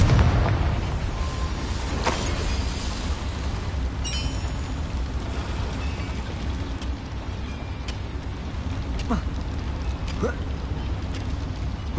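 Confringo blasting curse in Hogwarts Legacy: a burst opens with a thick low boom, then a continuous rumbling roar and sharp crackling pops fill the rest, under a game soundscape with speech present.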